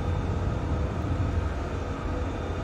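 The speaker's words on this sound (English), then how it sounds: "You can hear the airplane is really at its maximum angle of attack right now." An airplane flying at its maximum angle of attack, likely in a flight simulator, gives a steady, loud engine and airflow roar with a deep rumble that holds constant throughout, with no talking.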